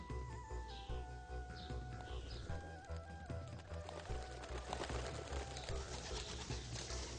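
Pigeons coo at a Buddhist monastery in Ulaanbaatar, Mongolia, several soft calls repeating over a busy outdoor background with a continuous murmur of ambient noise.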